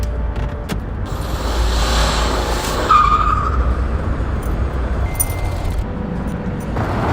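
A car skids with a tire squeal cutting through steady road and engine noise, fairly loud and close, with no voices.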